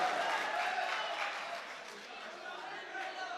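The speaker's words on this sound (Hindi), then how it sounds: "तालियां बजाकर इस्तकबाल कीजिए जनाब अचानक मौलवी" An audience at the Baskhari Mushaira 2019 poetry gathering applauds to welcome poet Achanak Maulvi: a steady, somewhat distant wash of crowd clapping that eases slightly, with murmured chatter underneath.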